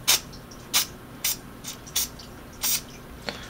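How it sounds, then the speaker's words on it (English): Several short hissing bursts of Fluid Film protective coating sprayed from an aerosol onto handheld radio parts, evenly spaced, close and fairly loud, with no talking. "give it a little spray coat of the fluid film"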